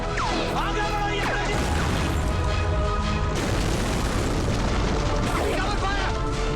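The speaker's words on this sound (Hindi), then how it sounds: "हम कवर फायर देते हुए आते हैं" A Kargil war film battle scene on the Tololing heights with Indian Army troops laying down covering fire: continuous loud booms, crashes and bursts of gunfire, with shouting voices mixed into the din.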